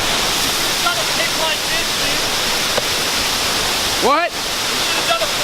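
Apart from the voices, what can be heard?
El Limon waterfall roaring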